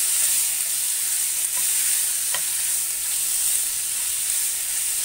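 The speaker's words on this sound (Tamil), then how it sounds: "அதையும் நல்லா அந்த இஞ்சி பூண்டு பேஸ்டோடு நல்லா ஃப்ரை பண்ணிடுங்க." Prawns fry with ginger garlic paste for a prawn curry, giving a loud, continuous hissing sizzle that stays close and steady, with a couple of faint stirring knocks.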